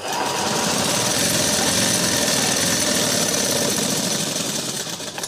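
An electric sewing machine runs steadily as it stitches a facing strip onto the reverse side of a blouse placket, a continuous close, dense mechanical whir with no pauses and no talking.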